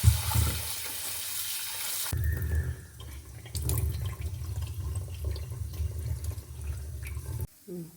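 Cauliflower pieces rinsed with turmeric in water, giving continuous running and sloshing water close by, with a brief pause and a short quiet gap near the end.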